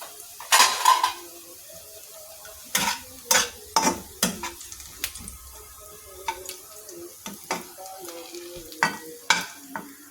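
Crispy fried onions (beresta) being lifted from a pan into a bowl with metal utensils, bringing a series of sharp clinks and scrapes at an uneven pace, with a faint sizzle underneath and no talking.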